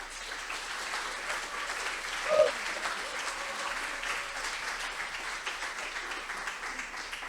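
Audience applause for student presenters at a student showcase, a steady even wash of clapping from a crowd lasting throughout, with no voices over it.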